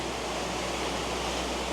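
Steady, soothing rush of flowing water at Huanglong Pool on Lushan, a small cascade over mossy, dripping rocks, heard close and continuous with no voices.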